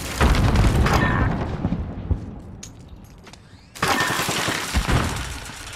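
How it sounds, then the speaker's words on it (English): A grenade blast in the Call of Duty: Modern Warfare video game: a loud burst of booms and crackling gunfire that drops away, then erupts again into heavy, continuous combat noise. "Oh shit, grenade!"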